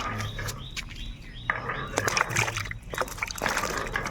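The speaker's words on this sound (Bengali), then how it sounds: "সবজিগুলো কেটে নিয়েছি এবার সুন্দরভাবে ধুয়ে নেব" Cut vegetables for a Bengali shukto are washed in water, with sloshing and splashing in irregular bursts close by and faint bird chirps in the background.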